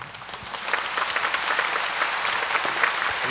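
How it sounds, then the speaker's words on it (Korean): Dense, steady applause from a church audience at a 2019 Catholic Charismatic Renewal national convention, thanking the lecturers. It swells after a brief start and stays full, with no talk over it. "우리에게 은혜로운 말씀을 해주신 진머피 우리 회장님과 유수사님 다시 한번 감사의 박수"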